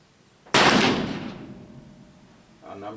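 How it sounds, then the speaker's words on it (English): A single sharp, loud shot from a Pietta 1858 cap-and-ball revolver fired at a target, with a long decaying echo and a voice speaking briefly afterward. "I'll go right to the shooting of the first target"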